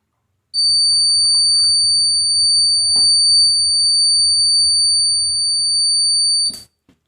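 A water level indicator alarm buzzes loudly in one steady, continuous electronic tone for about six seconds, triggered as a tank fills to 90 percent, then cuts off abruptly.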